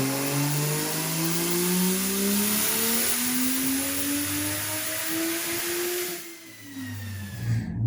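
A barn-find Charger with a turbocharged 2JZ swap revs hard, its engine note climbing steadily over several seconds before cutting off abruptly and then picking up again, loud and close with no talk.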